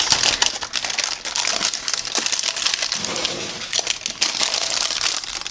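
Parchment paper crinkles and crackles loudly as a keto blueberry crumble crust is pressed into a pan, a dense run of crisp crunching bursts with brief pauses throughout.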